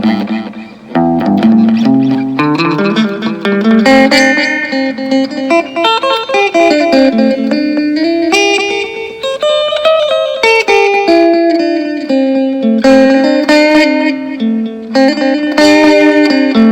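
Electric guitar played through the echo effect of a Carvin SX200 amplifier, a continuous melodic line of sustained notes with repeating delayed trails and reverb, loud and steady with no talking.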